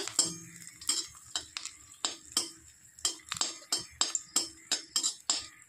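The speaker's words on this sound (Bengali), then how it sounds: "তেল গরম হয়ে গেছে, দিয়ে দিচ্ছি শুকনো লঙ্কা একটা।" Dried red chili frying in hot mustard oil in a heated wok, with a low sizzle under a steady run of sharp scraping and clinking stirring strokes, close and fairly loud, with no talking.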